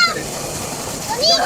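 Children swimming at a tubewell splash as someone jumps into the water, a bright splash rising at the end over steady rushing water, with kids talking and shouting throughout.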